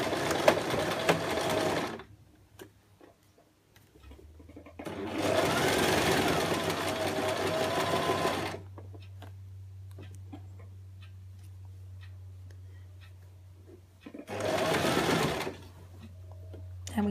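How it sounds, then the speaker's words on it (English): A sewing machine back stitches a seam through several fabric layers at the top of a ruffle skirt, running in three rapid buzzing bursts separated by quiet pauses with a low steady hum. "top of the skirt, I am going to back stitch."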